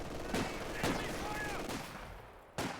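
Sharp bursts of MG42 machine-gun fire from the Company of Heroes 2 battlefield crack out about four times at irregular intervals over a steady wash of background battle noise, with a commentator's voice faintly mixed in.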